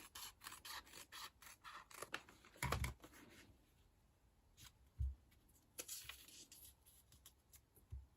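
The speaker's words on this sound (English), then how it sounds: "I'm going to actually cut this piece so it's got a sharper edge" Scissors snipping through a piece of paper at a mixed media craft table, a run of quiet, quick crisp cuts and rustles with a few louder clicks and scrapes, close and without talk.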